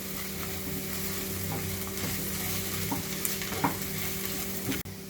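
Masala spiced with garam masala being stir-fried in a pan for a prawn roast, a steady close sizzle with occasional stirring taps and a sharp knock near the end.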